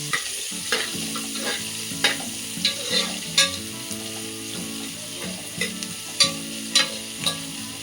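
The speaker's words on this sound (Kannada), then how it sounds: "ಆಮೇಲೆ ಹೆಚ್ಚಿದ ಈರುಳ್ಳಿ, ಅದನ್ನು ಸ್ವಲ್ಪ ಬಾಡಿಸ್ಕೊಳ್ಳಿ" Chopped onions sauté in a hot pan for ghee rice, giving a steady soft sizzle broken by regular scraping taps of a spoon stirring against the pan, close and without voices.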